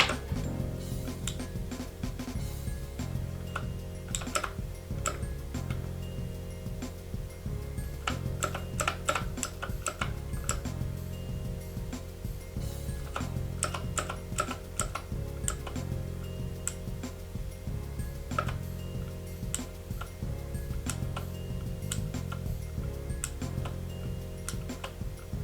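Typing on a Keychron K6 mechanical keyboard with clicky blue switches: close, sharp clicks in an irregular, fairly steady rhythm, heard alone over a constant low background hum for the whole stretch.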